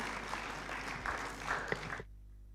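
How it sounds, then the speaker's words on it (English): A room full of people at a law conclave applauds to welcome a speaker, dense steady clapping for about two seconds that then cuts off abruptly into quiet. "Can we please welcome her with a huge round of applause?"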